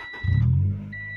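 A 1995 Honda Civic engine catching briefly, a short low rumble close by that settles into a steady idle hum.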